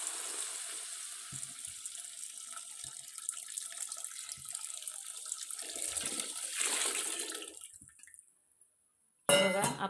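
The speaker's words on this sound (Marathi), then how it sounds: "त्याच्यात आपल्याला आता साखर बुडेल इतपत पाणी" Water pours from a tap into a pot of sugar for syrup, a steady close hiss and splash that swells toward the end, then stops abruptly before a brief clatter.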